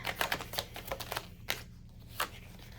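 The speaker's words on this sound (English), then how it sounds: "Let's go ahead and shuffle." Tarot cards being shuffled by hand, a rapid run of crisp papery riffles and taps, close and fairly quiet, with brief pauses between bursts.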